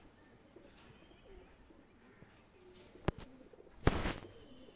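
Salara Teddy pigeons of a Pakistani bloodline coo softly nearby in a quiet room, with a couple of sharp knocks or wing flaps near the end.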